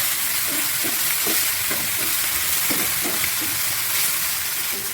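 Onion, tomato and garlic sauté in a pan for a Kerala okra tamarind curry, a steady broad sizzle with soft periodic scraping strokes of stirring throughout.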